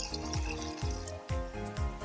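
Water poured into a bucket or container, about two litres, for mixing a fertiliser for a hibiscus plant; a steady rushing pour with gurgling pulses, close and fairly loud, no talking.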